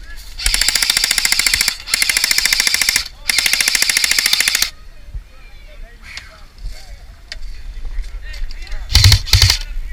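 Video game battle in a marsh: long bursts of rapid automatic gunfire, loud and close, then scattered shots and a heavier burst near the end, with players talking over it.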